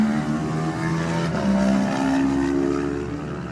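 A Wobbly Bob Racing Yamaha lightweight race motorcycle pulls away from the start line at the Classic TT on the Isle of Man, its engine note rising steadily through the gears, loud and sustained with no talk.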